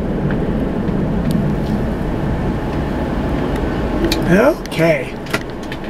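Cars passing on Coldwater Canyon Drive in Beverly Hills, heard from inside a car as a steady road rumble with a louder whoosh near the end; someone speaks briefly.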